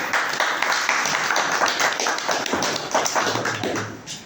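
Audience applause for the executive president at an internal Jaycee (JCI) training session: dense, steady clapping from a crowd in a room, close and fairly loud, lasting throughout and thinning slightly at the end.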